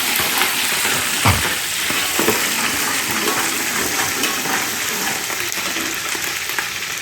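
Peeled garlic and green chillies sautéing in a pan for a fish curry, a continuous close sizzle with scraping stirring strokes throughout, no voices over it.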